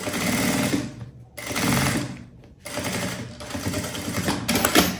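A sewing machine stitches the main fabric and lining sides of a zippered pouch together in several close bursts of rapid whirring, separated by short pauses.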